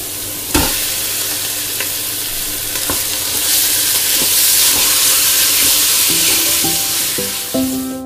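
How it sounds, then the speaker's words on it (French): Ground beef browning in a pot with onion and garlic for a one-pot Mexican quinoa, a loud, steady sizzle with occasional stirring scrapes and clinks of a utensil against the pot. "Je vais ajouter mon bœuf et le faire cuire."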